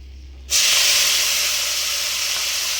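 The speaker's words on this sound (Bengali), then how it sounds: "এবার পেঁয়াজগুলো কিন্তু আমি তেলের মধ্যে দিয়ে দেবো, দিয়ে ভেজে ফেলবো পেঁয়াজগুলোকে।" Onions dropped into hot oil burst into a loud, sudden sizzle after a brief quiet moment, then keep hissing steadily and strongly.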